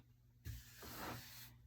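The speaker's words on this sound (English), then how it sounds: "just spray some water in these paint trays" A spray bottle mists water into paint trays in two quick bursts, the second longer and hissier than the first, close by with no talking.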